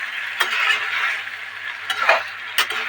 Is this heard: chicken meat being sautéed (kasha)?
yes